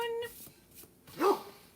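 A pet dog gives a short whine indoors, then after a pause a single sharp bark, fairly close but not loud.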